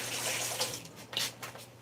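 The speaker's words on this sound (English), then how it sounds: "Let me pour a little water down for her." Water is poured out in a continuous splashing stream, near and moderately loud, with a few brighter splashes in the second half and no voices.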